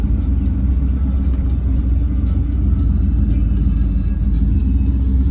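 A 1988 Mazda B2200 pickup drives down an extension road towing a trailer loaded with a battery and a winch, giving a steady, loud low engine and road rumble that holds even throughout.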